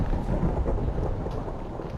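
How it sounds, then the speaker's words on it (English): Minecraft thunderstorm, a low continuous rumble of thunder mixed with a dense wash of rain that stays loud and steady for two seconds, with no talking. "Oh, that's a thunderstorm."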